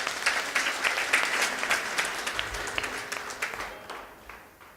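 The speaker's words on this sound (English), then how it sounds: "Please, can you give a round of applause?" Audience applause at an entrepreneurship interview event, a burst of crisp clapping that starts full and gradually fades out over a few seconds.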